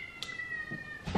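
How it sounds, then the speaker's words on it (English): A pet cat meows indoors, giving a couple of short, faint cries close by in a quiet room. "my cat is crying. What's the matter?"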